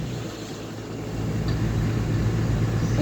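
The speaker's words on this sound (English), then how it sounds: "You can hear it rattling." A 1981 Plymouth Reliant K wagon rattles as it drives, giving a steady, close, fairly loud low engine rumble with a constant hum and faint metallic clatter throughout, with no voices.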